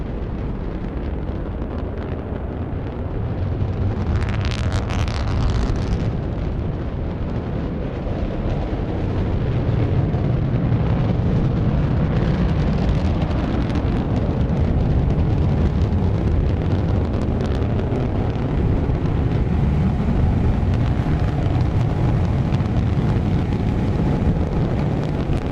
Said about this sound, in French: Ce prototype a fait un saut de 150 mètres au-dessus du sol et s'est reposé ensuite.